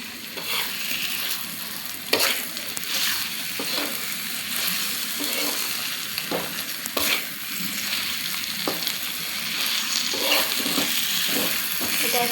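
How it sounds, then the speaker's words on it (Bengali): Ground banana stem paste frying and being stirred in spices in a pan for banana stem bharta: a steady close sizzle with repeated scraping stir strokes, no talk. "এটা এখন আমি ভালোভাবে ভেজে নেব অনেকক্ষণ, 10-15 মিনিট।"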